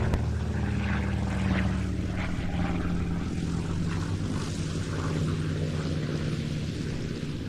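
A Curtiss P-36C fighter, a mid-1930s propeller aircraft, flies a solo display at the IWM Duxford flying day. Its engine drones loud and continuous throughout with no talk.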